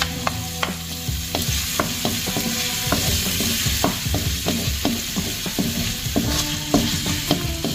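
Garlic, ginger and onion sauté in very hot oil, a steady loud sizzle with frequent clinks and scrapes of a utensil stirring the pan, close up with no talking.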